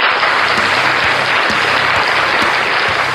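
Crowd applause at the iSMG 2026 scooter gathering in Terengganu, Malaysia, a loud, sustained burst of many hands clapping with a faint underlying hum.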